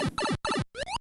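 Three short Super Mario Bros. style sound effects in quick succession as a browser tab opens and closes, the last a rising boing-like tone, crisp and near with brief gaps between.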